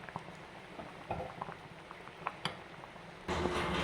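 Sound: curry boiling

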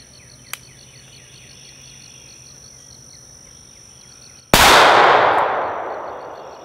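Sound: M17 pistol shots and steel targets ringing

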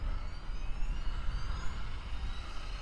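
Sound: FW450L-V3 Fly Wing RC helicopter motors spinning up

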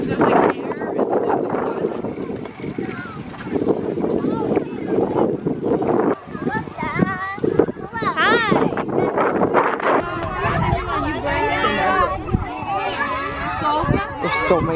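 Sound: wind

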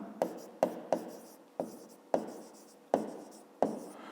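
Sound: writing numbers during a math exercise

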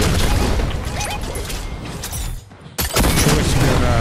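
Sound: firing a gun in Fortnite video game

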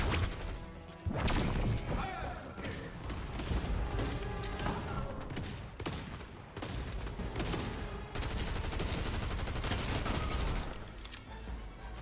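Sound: gunfire from the video game Fortnite

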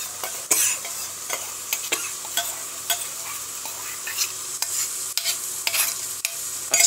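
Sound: stirring spinach into frying masala

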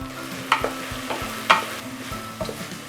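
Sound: spices and coconut sautéing in oil while stirred

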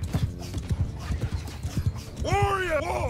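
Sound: cavalry horses galloping in video game Mount & Blade 2: Bannerlord

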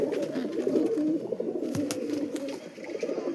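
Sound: Teddy pigeons cooing

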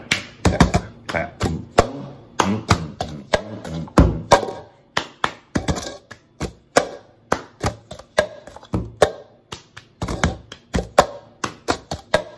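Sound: hand clapping and tapping rhythm

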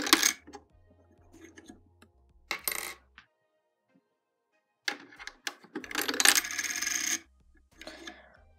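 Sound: coins rejected by LEGO candy machine into rejection slot

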